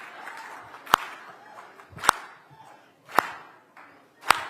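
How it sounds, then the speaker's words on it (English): Audience at a charity mentoring gala claps in unison, four sharp, evenly spaced claps about a second apart, with a soft crowd murmur between the beats. "I need a hand clap."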